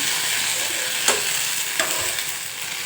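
Steady sizzle of spices frying in a hot pan for red chutney, with a couple of brief sharp crackles or stirring scrapes and no voices.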